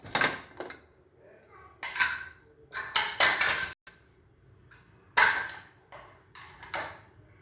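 A pressure cooker lid being opened after cooking vegetable pulav, with several sharp metallic clanks and scrapes of the lid and pot spaced out over a few seconds, close and moderately loud.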